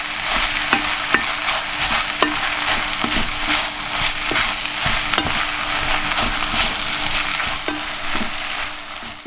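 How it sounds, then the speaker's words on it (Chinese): Potatoes and carrot puree with tomato paste are stir-fried in a pot for lamb chorba. A spatula scrapes and clacks repeatedly over a constant close sizzle. "然后加入剩下的马铃薯跟胡萝卜泥进去，也是一样拌炒一下"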